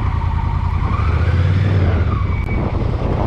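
A 2021 Honda CMX 1100 Rebel with a 1084 cc twin-cylinder engine runs loud and close, a steady low throbbing rumble that holds throughout with no talking.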